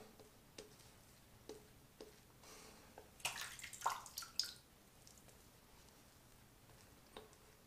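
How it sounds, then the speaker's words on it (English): A short burst of splashing, trickling water from a tap added to shaving soap lather, amid quiet, sparse drips and small clicks, fairly faint and close. "So we're gonna add just a touch of water to that."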